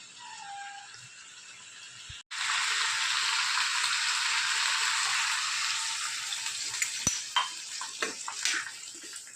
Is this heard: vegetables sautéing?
yes